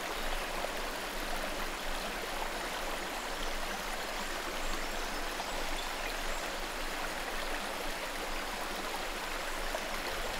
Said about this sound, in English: Rainwater cascades from the Ghats.